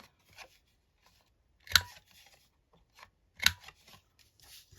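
Scissors rounding off the bottom of a paper journaling card, making two crisp, close snips spaced over a second apart with quiet handling between them.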